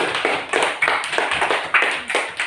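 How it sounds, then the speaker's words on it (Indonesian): A small classroom group claps in a loose, uneven rhythm. The claps are close and fairly loud, with about eight to ten distinct bursts in quick succession. "terima kasih banyak tepuk tangan yang meriah untuk kelompok 1"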